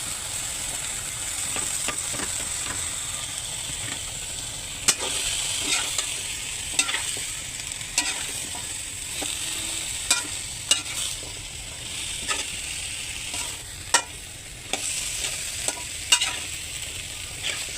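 Prawns, taro stems and taro corms sauté with spices in a pan, a steady close sizzle broken by repeated sharp clicks and scrapes of stirring, with no talk.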